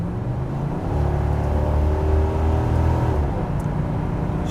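A 1987 Chevrolet Monte Carlo SS V8 revs and accelerates close by, its loud engine note rising steadily and holding before easing off.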